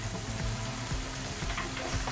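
Onions frying in a hot pan for a French-style sauce, giving a steady dense crackling sizzle with soft stirring scrapes, close and continuous with no talking.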